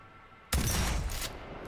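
A gun in Cyberpunk 2077 fires as a sudden loud burst that stays dense for about a second, with heavy recoil and a wide spread.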